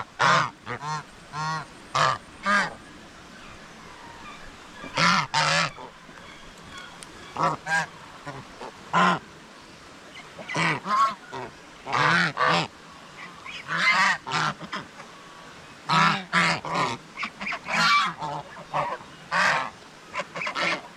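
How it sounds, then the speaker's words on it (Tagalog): Geese honking repeatedly in loud, irregular bursts at a farm fence, with short pauses between volleys of calls and no talk. "May gansa pa na natira din, sa bakod."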